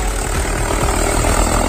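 A Massey tractor working in a cultivated field runs at a loud, steady engine rumble with a low, rhythmic chug, nearby and unbroken, with no voices over it.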